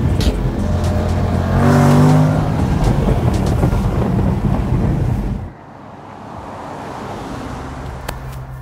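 A 2021 Jaguar F-PACE SVR engine and exhaust roar loudly and close for several seconds with a deep rumbling growl, then cut down abruptly to a quieter background hum.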